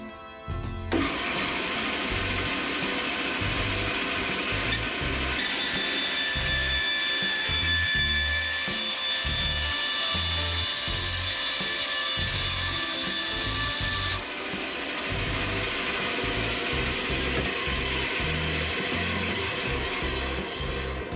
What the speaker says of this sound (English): So I'm going to get the bandsaw set up, and then we'll make this cut.